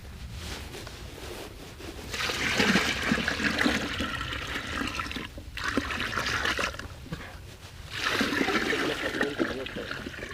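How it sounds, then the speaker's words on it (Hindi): Buckets of liquid organic fertilizer made from mustard cake, jaggery and waste decomposer are poured into a 200-litre tank, giving two long bursts of rushing, splashing water with a steady trickle between them. "अभी हम 1-2 बकेट और डाल देते हैं"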